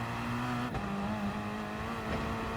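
Gr3 race car engine in Gran Turismo Sport at the Nordschleife, a loud sustained high-revving drone with steady pitch shifts as it pushes through a corner, alone without talk.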